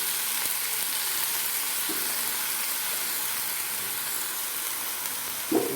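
Vinegar going into a pan of frying Kapampangan adobo: a steady, loud sizzle and hiss fills the whole stretch, with a few faint knocks and a brief clatter near the end.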